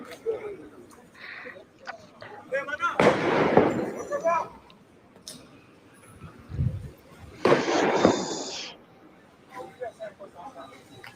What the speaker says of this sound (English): the fireworks is coming in.